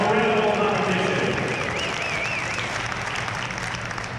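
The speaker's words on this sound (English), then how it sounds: "Give Jared a round of applause." An audience at a gymnastics championship applauds loudly and steadily for around four seconds, a dense wash of clapping with a voice faintly audible underneath.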